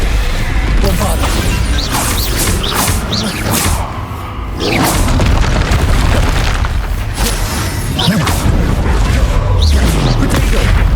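A Bombarda blasting spell in Hogwarts Legacy on PS4: a dense run of loud booming explosions, crashes and swooshing impacts that continues almost without pause through the whole stretch of game combat.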